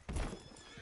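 Horse in the Red Dead Online western game gives a short whinny with a brief clip-clop of hooves, a quick, fairly close burst lasting under a second.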